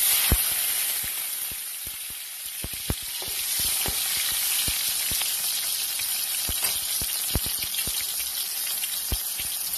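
Tomatoes dropped into oil in a hot frying pan, a loud continuous sizzle broken by sharp spattering pops at irregular intervals, close by and without talk.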